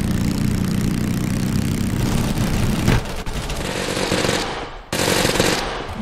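Drive-by gunfire from a vehicle in Totally Accurate Battlegrounds, dense rapid automatic shots blended with a loud, rumbling engine, sustained and close with brief breaks.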